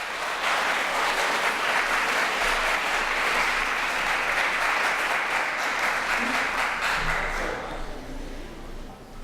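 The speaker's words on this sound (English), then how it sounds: "Let's have a round of applause for Carlos O'Kelly's." Sustained applause from a dinner audience at a 2013 business networking event: a loud, dense wash of clapping that holds steady for several seconds, then thins and fades near the end.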